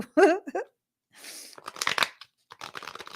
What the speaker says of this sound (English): I just want to shuffle this a couple more times.